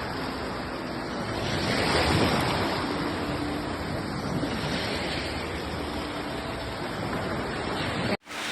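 Ocean waves washing in at the seashore, a loud continuous roar of surf with wind noise buffeting the microphone, swelling slightly and then cutting off abruptly at the end.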